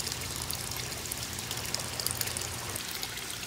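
Water trickles steadily from a pump-driven sponge filter packed with bio balls in an outdoor tub, a continuous close, even splashing hiss with no talking.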